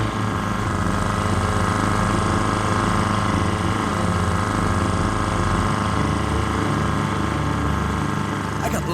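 An outboard engine drones steadily on a canoe while trolling for fish, a loud, unbroken mechanical hum with a faint rattle that never lets up.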